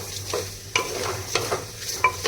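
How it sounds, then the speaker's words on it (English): Ginger, garlic and roasted cumin being stirred in a pan, with a soft sizzle under quick, close scraping strokes of a spoon and a few sharp clinks against the metal. "give it a proper mix so that ginger, garlic and roasted jeera"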